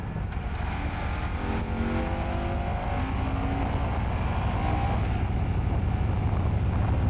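A Moto Guzzi Stelvio motorcycle cruising steadily on cruise control, its engine holding an even drone under constant wind rush heard from the rider's position, with no speech.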